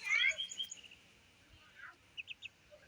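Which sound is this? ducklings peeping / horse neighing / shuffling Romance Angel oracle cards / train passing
ducklings peeping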